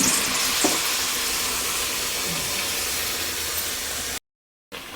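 Vada batter drops into hot oil at a tiffin-centre stove and sizzles with a steady, loud hiss that runs almost unbroken, with a brief cut to silence near the end.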